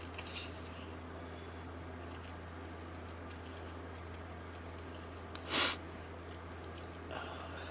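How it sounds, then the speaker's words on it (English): A single short sniffle stands out against a steady low hum of background noise, otherwise quiet with no talking. "I apologize for the sniffles."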